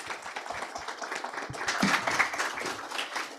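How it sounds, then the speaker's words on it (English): Steady applause from a conference audience for a panel discussion, dense clapping filling the whole stretch and swelling slightly toward the middle. "I would request everybody to give a round of applause for this panel"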